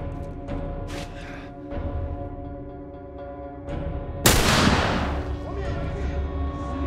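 Gunfire in the game The Last of Us, with a few scattered shots early on and one loud, sharp blast midway that rings out, set against a steady tonal music bed.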